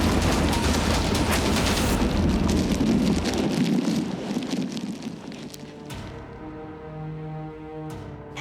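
Heavy rain pours during a tornado storm, a loud, dense roar that fills the air for several seconds before easing into a softer, steadier patter.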